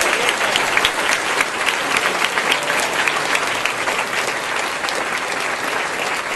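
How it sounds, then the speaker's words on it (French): Loud, steady applause from a congregation at an evening Bible study gathering, many hands clapping continuously without a break from start to finish. "Donnons-lui un fort applaudissement,"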